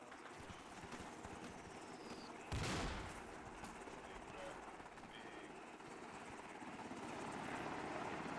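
A helicopter in a military video game thumps with its continuous rotor beat throughout, under and around a sudden loud burst near the middle, while players talk in the background.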